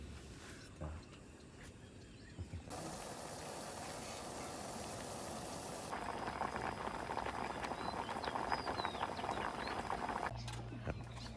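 A pot of shrimp rice porridge bubbles steadily at a campsite, the boiling hiss growing louder partway through while a person talks over it.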